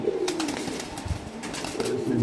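A racing pigeon, a female, gives drawn-out rolling coos at the start and end, close and clear over a steady rustling background.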